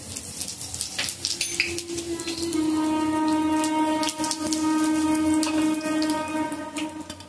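Mustard seeds, cumin and asafoetida sizzle and crackle in hot oil for a bottled gourd bharta, a steady close frying hiss with rapid popping spatters throughout and no voices.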